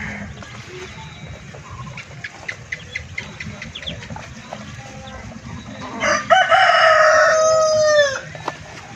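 Two backyard roosters kept alongside ducks crow loudly nearby in one long drawn-out cock-a-doodle-doo over a busy rural background of faint clucking and chatter.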